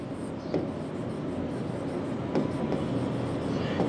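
Marker or chalk writing on a board while a maths problem is worked out, steady scratchy strokes running nearly continuously with a few sharper taps, close and moderately loud, no talking.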